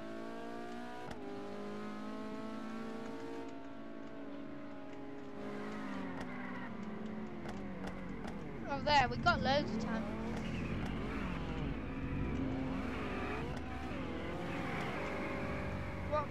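A race car engine in a Roblox racing game revs hard and accelerates, its pitch climbing through gear shifts with a burst of tire squeal midway, while a player talks over it.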